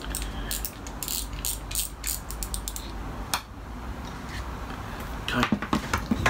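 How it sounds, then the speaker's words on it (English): Ratcheting, creaking clicks from a fishing reel as its spool is worked off, a close, busy run of small mechanical ticks and scrapes with a few sharper snaps near the end. "Let me take the spool off,"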